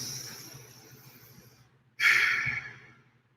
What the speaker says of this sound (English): So we are going to close our eyes and start breathing.